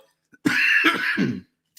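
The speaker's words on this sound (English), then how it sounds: "I was fighting the cough there for a hot minute" A single harsh cough, or a rough clearing of the throat, breaks a near-silent room; close and brief, with no talking.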